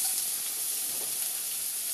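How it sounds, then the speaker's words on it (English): Loud continuous sizzling from a hot pan as egg and vegetable fried rice begins to fry, a steady bright hiss with no talking over it. "Ready for the sizzle?"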